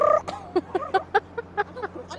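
Seagulls in Kobe give a string of short, sharp calls, about a dozen quick squawks in an uneven rhythm, loud and close with no talking.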